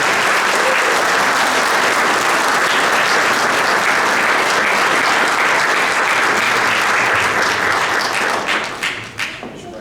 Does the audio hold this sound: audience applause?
yes